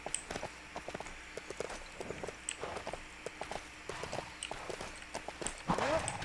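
Quiet, steady horse hoofbeats clop along in a walking rhythm in the video game LEGO Worlds, with a short vocal sound near the end.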